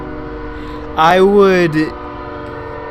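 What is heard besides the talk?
train passing, with its horn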